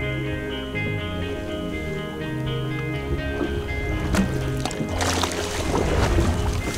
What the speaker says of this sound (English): Try to back up the boat a little bit.